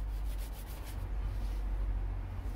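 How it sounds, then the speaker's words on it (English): A stiff wheel brush scrubs flat surfaces of Mazda MX-5 parts, giving a steady, close abrasive rubbing that runs without a break and without talk. "I've got a wheel brush which is a bit stiffer, which will hopefully do sort of some flattish surfaces."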